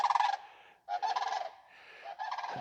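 Sandhill cranes call as they take flight, loud trumpeting rattling calls in several bursts with short gaps, fairly close and alone without speech.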